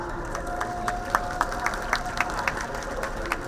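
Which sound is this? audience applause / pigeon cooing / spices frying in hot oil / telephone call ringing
audience applause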